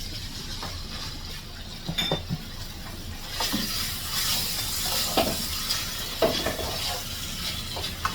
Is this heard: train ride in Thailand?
no